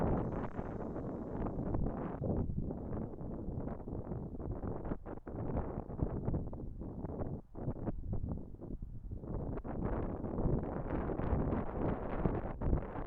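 Strong wind buffets the microphone at a fishery lake, making a steady, loud roar with gusts rising and falling for the whole stretch and no voices heard.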